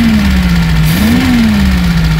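A Reliant SuperVan in Eddie Stobart livery, recently revived, runs loud and close: its engine holds a steady hum, briefly revs up, then eases back toward idle, with no voices.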